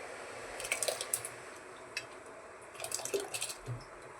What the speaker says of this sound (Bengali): সেই চালটা জল ঝরিয়ে সেই চালটা আমি এখানে দিয়ে দেবো।